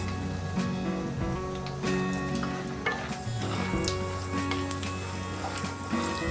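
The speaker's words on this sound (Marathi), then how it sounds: "हिला पण चांगलं तेलामध्ये फ्राय करून घ्यायचं" Roasted chana dal frying in oil in a small kadhai along with coconut and peanuts for thin-poha masala chivda, a steady close sizzle with stirring scrapes and clinks throughout.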